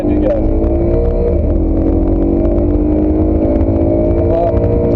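A race car engine drones loud and steady at Spa-Francorchamps, its pitch climbing as it powers out of a corner, with talk over it.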